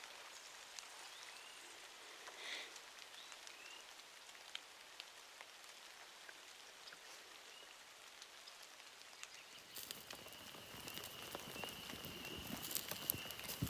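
Pouring rain at a spring campsite in Algonquin Park, soft and steady at first, then abruptly louder and closer with a dense patter of drops striking a nearby surface.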